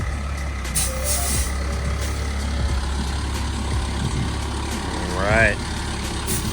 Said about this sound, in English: she's off the tow truck